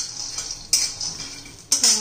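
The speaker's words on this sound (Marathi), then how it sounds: "थोडे शेंगदाणे घालून घेऊया" Peanuts drop into a hot kadhai for dry roasting, two bright rattling clatters close by over a low background hiss.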